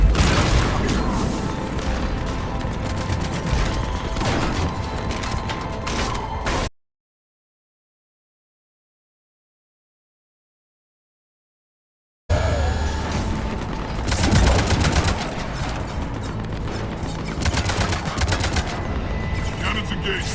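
Ship cannons firing in Mass Effect 3 during a fight against an Atlas mech, loud sustained mechanical booming and rattling fire that cuts to silence for several seconds, then resumes just as intense, with voices under the din.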